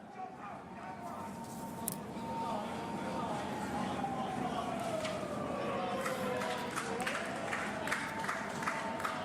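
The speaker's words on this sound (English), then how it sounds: "Sirens going by, but reassure they're not ambulances for the players." A road siren wails past in the distance during the 2022 World Cup hockey final in Tokyo, its pitch sliding and wavering over steady crowd noise and background chatter.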